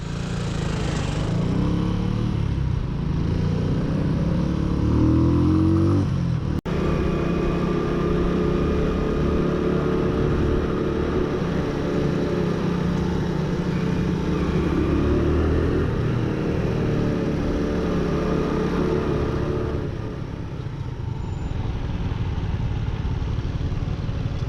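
A Honda Super Cub NBC110 motorcycle engine runs steadily and loudly up close on a shakedown ride in New Zealand, a continuous drone with slight throttle swells throughout.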